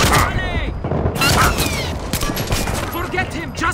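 Rapid, loud bursts of gunfire fill a firefight in the stealth action video game Splinter Cell: Blacklist, with overlapping shots and booms and shouting voices over the fray.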